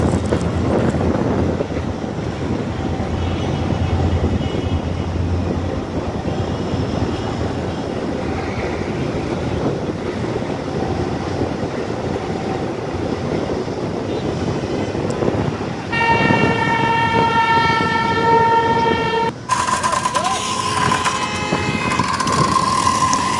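An Alexandria metro train rumbles past with steady broadband roar, then a sustained tonal horn or brake whine sounds near the end as it slows to a stop.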